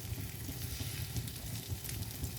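Vegetable takoyaki batter sizzling steadily in a takoyaki pan as the balls are turned, a soft continuous crackle with faint scraping and stirring taps, no voices.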